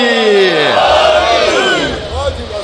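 At a religious gathering, a large crowd raises their hands and shouts a slogan in unison. The loud, rising massed roar swells and then tapers across a few seconds.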